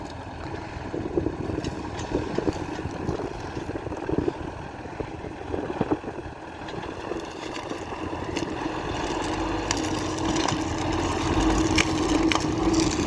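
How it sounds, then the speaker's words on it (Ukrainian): A CLAAS combine harvester at work in a field, its engine droning steadily while a wooden stick is crushed to splinters amid scattered cracks and crunching, the drone growing slightly louder toward the end. "Бачите, паличку переламує просто в хлам."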